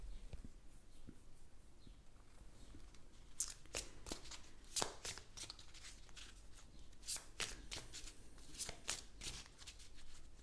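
Tarot cards are shuffled by hand close up, a steady run of soft riffling swishes and snaps with sharper bursts toward the middle and end, over a faint background hiss.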